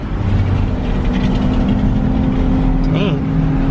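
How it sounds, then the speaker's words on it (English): A Ford Mustang floors it nearby, its engine roaring under a steady drone as it accelerates hard, with a short high-pitched squeal near the end and people's voices mixed in. "Mustang's flooring it."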